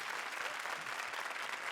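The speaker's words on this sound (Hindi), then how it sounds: "आ जाइए जरा ताली बजाइए श्रुति के लिए।" Studio audience applause for Shruti on a Hindi comedy show, a dense, steady wash of many hands clapping at full volume, continuous for a couple of seconds with no voices over it.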